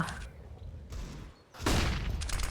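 Gunfire from AK rifles in the video game Counter-Strike on the Inferno map, a dense burst of shots with a sudden loud fusillade near the end, amid game background noise.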